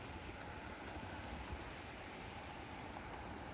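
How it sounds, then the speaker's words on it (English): Large ocean waves churning in stormy weather off Jamaica, a steady broadband roar of surf mixed with wind buffeting the microphone, continuous and loud with no talking. "Look at those waves, man."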